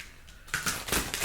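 A deck of tarot cards is shuffled by hand close up: a quiet start, then a run of rapid crisp riffling bursts and flicks with no talking.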